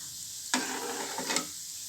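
Gulab jamun frying in oil, a soft continuous sizzle punctuated by two sharper stirring swishes close by, with no voices.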